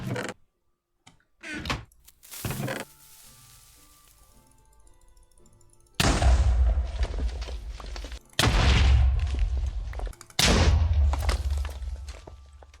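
TNT blocks exploding in the Minecraft video game: after a quiet stretch with a few thumps, three loud, booming blasts erupt one after another, each with a rumbling tail.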